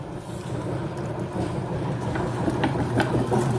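An electric meat grinder motor grinding beef for homemade beef sticks, a steady low droning hum with rough churning texture, close and unbroken throughout.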